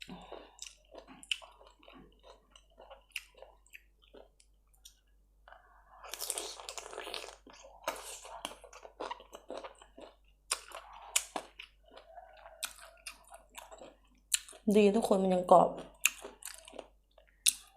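Crunchy sour mango with fermented fish sauce being bitten and chewed up close, with crisp crunches and wet chewing coming in bursts between stretches of quiet talk.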